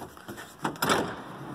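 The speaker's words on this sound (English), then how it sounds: "So now when I open the door" A rear cargo door on a Toyota 4Runner with a swapped body opens at close range, giving a short latch clunk followed by a brief broadband rush as the door swings, then a quiet tail with no talking.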